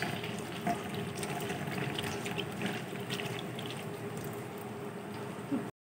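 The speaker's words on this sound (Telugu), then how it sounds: "ఇంకా ఇప్పుడు నీళ్ళు పోసి అయితే కలుపుకోవాలి" Water is poured into a flour mixture for sarva pindi, a flatbread, producing a steady, close splashing and trickling that runs unbroken for several seconds with no talking.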